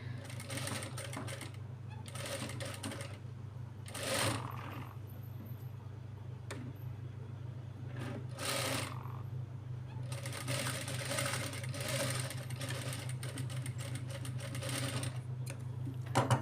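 Sewing machine stitching a child's lehenga blouse, running in several bursts of rapid stitching separated by pauses, with a steady low hum underneath throughout.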